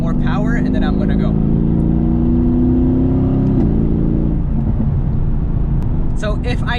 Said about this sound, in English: I'm gonna downshift so I can have access to more power, and then I'm gonna go.